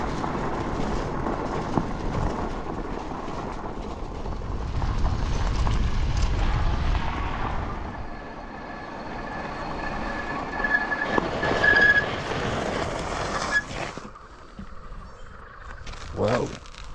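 A passenger train runs through a cut in a hillside in East Texas, making a continuous rumble and clatter with brief wheel squeals. The noise swells and fades, and a person talks over it.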